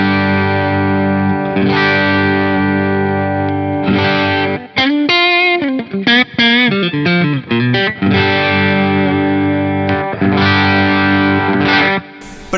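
Electric guitar played through a Fender Machete tube amp on its cleanest setting, with a slightly gritty, crunchy tone, sustained chords with a brief melodic run in the middle, loud and close.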